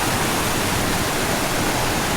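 Broadband roar of a rushing river in flood, churning steadily and loudly at close range with no pauses and no voices.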